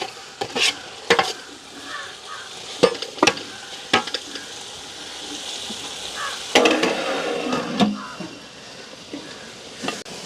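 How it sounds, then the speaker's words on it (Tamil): Tomatoes sauté in a pan over a village cooking fire, a low sizzle punctuated by sharp, irregular clacks and scrapes of a spoon stirring them, close and fairly loud. "தக்காளி பழமும் எங்களுக்கு நல்லா வதங்குவோம். இப்படியே நாங்கள் பிரட்டி விட்டுட்டு மூடி விடுவோம்."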